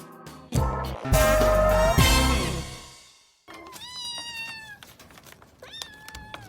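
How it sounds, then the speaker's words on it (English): Kittens meow in a series of close, high, wavering cries, the first one long and loud over a rustling background, followed by a pause and then several shorter, thinner mews. "Kittens."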